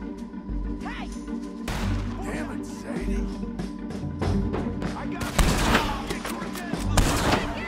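Gunfire in the Red Dead Redemption 2 western game: several sharp shots and bursts with crashing impacts amid game music and effects, with character voices speaking between them.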